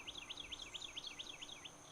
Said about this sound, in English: You hear the little birds, isn't it nice?